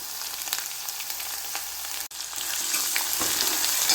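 Ginger and green chili fry in a pan for beetroot inji puli, a close, steady crackling sizzle with stirring and one brief break.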